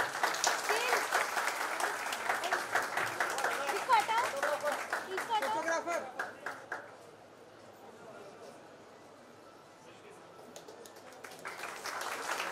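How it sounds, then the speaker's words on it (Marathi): An audience applauds loudly at an honouring ceremony where a party leader receives a shawl and bouquet, dense clapping that fades after about six seconds into quieter murmur before picking up slightly again. "पुन्हा एकदा जोरदार टाळ्या."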